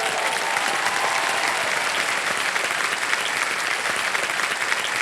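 A studio audience on the Hindi quiz show KBC applauds a contestant, producing a full, even roar of many clapping hands that stays loud and steady the whole time with no talk on top.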